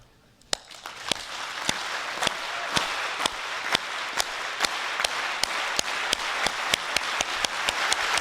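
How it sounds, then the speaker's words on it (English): A crowd at a Porter College commencement at UC Santa Cruz claps in unison, sharp single claps coming at a steady beat and gradually speeding up over a wash of applause and crowd murmur. "So we're going to escalate our clapping until I call isang bagsak."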